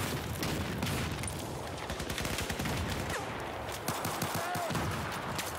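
Dense gunfire in Battlefield 4 crackles continuously, overlapping shots and bursts filling the whole stretch at fairly close range, with a player's voice cutting in at times.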